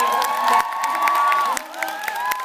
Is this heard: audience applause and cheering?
yes